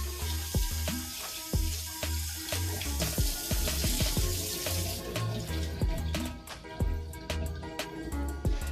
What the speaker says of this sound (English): So we'll wash your rice at least 3 times.